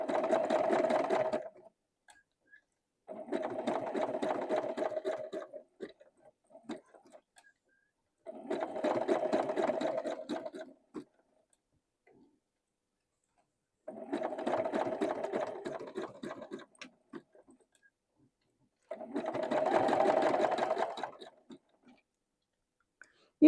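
A sewing machine zigzag-stitches velvet ribbon in five steady bursts of rapid needle chatter, each about two seconds long and separated by short pauses, close and clear with no talking.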